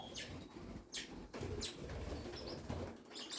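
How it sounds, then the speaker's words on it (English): A Java sparrow flaps its wings in short, soft bursts close by, several quick flutters separated by brief pauses, quiet and with no talking. "Nightshade's a Java Sparrow"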